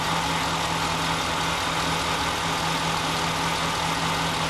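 A Dodge Dakota pickup with a stalling-while-driving fault idles with a steady, unbroken engine hum and an even low drone that holds at constant loudness throughout.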